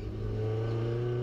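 A Mini Cooper S race car engine holds a steady mid-pitched drone on the Snetterton circuit, sustained and fairly close with no clear rev changes, no talking.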